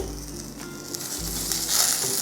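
Green chilies frying in hot oil in a pan, a steady close crackling sizzle that swells slightly toward the end, with no voices.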